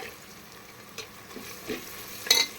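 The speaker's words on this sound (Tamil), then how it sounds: "நல்லா வெங்காயம் கோல்டன் கலரில் வேகணும்" Onions and mint frying in a pan for Madurai chicken biryani give a quiet, steady sizzle with faint stirring, and a brief louder clatter comes near the end.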